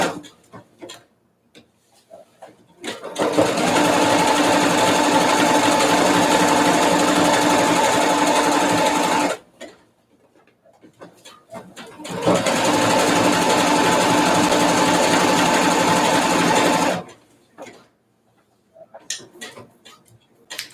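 A sewing machine stitches through thick denim for ultra high-waisted jeans, running in two long, loud, steady bursts of rapid mechanical clatter separated by quiet pauses with faint handling noises.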